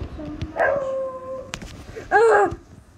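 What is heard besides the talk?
dog howling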